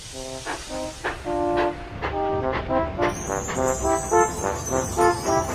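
A train horn blows in a long series of tooting notes, the wheels rattling and clacking along icy tracks underneath.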